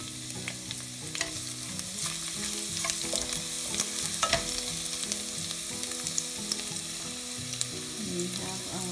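Garlic sautés in a hot pan with a constant dense sizzle, broken by frequent light clicks and scrapes as it is stirred.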